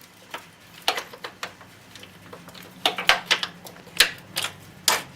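Metallic clicks and taps of a bolt being fitted into a motorcycle brake assembly near the brake cylinder actuator rod, a scattered series of sharp close knocks over quiet background hum.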